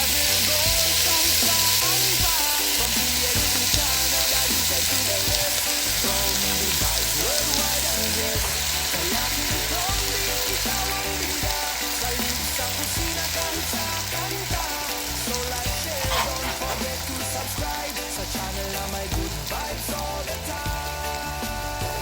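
Pork meat fries with garlic in a pan for pork menudo, producing a loud, dense, continuous sizzle and crackle that holds steady throughout, with no voices.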